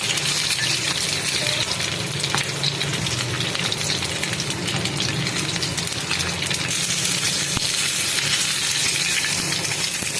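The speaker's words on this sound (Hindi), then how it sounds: "अब ये इस अंडे को हम डालेंगे। नॉर्मली जैसे फ्राई करते हैं वैसे ही करना है फ्राई।" Eggs fry in hot oil in a pan for a dhaba-style egg gravy, a loud, steady crackling sizzle that continues without pause, with occasional faint clinks from a utensil and no speech.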